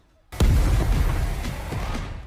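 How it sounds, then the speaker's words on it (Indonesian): A large explosion in the Wu Dong Qian Kun animated series hits suddenly after a brief quiet, a loud booming blast that rumbles on and slowly fades, heard alone. "muncul kekuatan besar dari ledakan tubuh Lang Tian ini"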